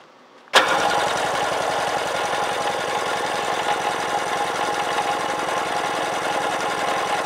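A 1995 Sea-Doo Sportster jet boat engine cranks over on the starter during a compression test on the PTO-side cylinder, starting abruptly after a short quiet moment and then running as a loud, steady, rapidly pulsing churn that continues for several seconds.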